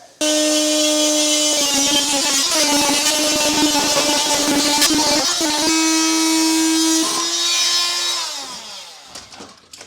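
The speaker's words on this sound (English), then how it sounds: "I think I'll try the multi-tool for that" An oscillating multi-tool cuts a plywood overhang inside a 1975 Viscount Ampa vintage caravan, giving a loud, steady buzzing drone for about eight seconds before it winds down.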